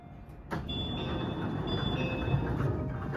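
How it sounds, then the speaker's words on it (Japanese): A JR Central Chuo Line rapid train to Nagoya pulls away from a station, with a steady low rumble building up after a brief door-like thump, and faint tonal whine lines sustained over the noise. "列車が発車します。"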